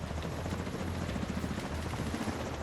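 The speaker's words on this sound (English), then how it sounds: "So that's the first set of choppers." Helicopters in the video game The Division 2 drone steadily with a low, throbbing rotor chop, close and loud, holding a dense continuous roar with faint gunfire-like crackle beneath.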